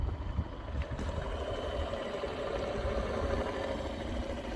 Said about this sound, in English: in this mode you can hear the motor running